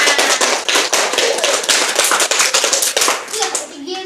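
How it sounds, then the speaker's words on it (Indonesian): Young children in an early-childhood class clap their hands together, a loud, busy burst of uneven claps close by with a few small voices mixed in. "Ya, tepuk tangannya."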